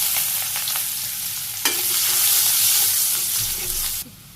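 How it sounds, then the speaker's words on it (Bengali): Chopped onions frying in oil with cumin in a village kitchen pan, a steady loud hiss that swells slightly midway, with a short stir scrape, then cuts off near the end. "পেঁয়াজ ভাজি হয়ে গেছে"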